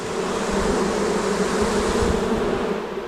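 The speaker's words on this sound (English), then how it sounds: "the bees are all fanning right now" Honeybees fanning at the entrance of a new HiveIQ beehive as a large 12-pound package of bees settles in, a steady, dense buzzing drone that holds loud and close for the whole stretch without a break.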